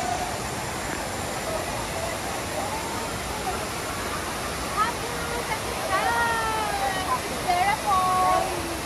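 Vera Falls near Mayon Volcano, a steady broadband rush of falling water filling the whole scene, with people talking and calling out over it toward the end.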